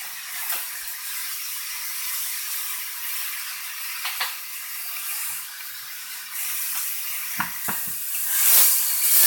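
A steak searing on its sides in a hot pan, with a steady bright hiss of fat and a few sharper crackles that swell louder near the end, heard up close without speech.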